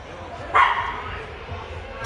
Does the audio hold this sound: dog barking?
yes